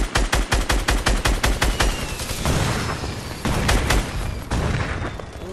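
Loud video game gunfire with a hunting rifle, rapid heavy shots cracking in quick succession at first, then blending into a dense roaring barrage of booming fire.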